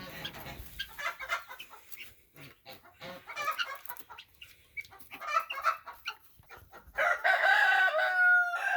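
Chickens around a cage with a heat lamp, where a hen sat on eggs, cluck and call in scattered bursts throughout. A louder, sustained squawking call near the end stands out above the rest.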